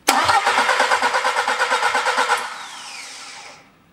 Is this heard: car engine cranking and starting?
yes